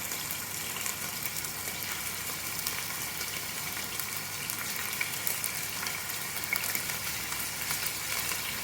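Meat browning in a hot pan for Italian spezzatino stew, with a steady, even sizzle and crackle that holds at a moderate level the whole time and no talking.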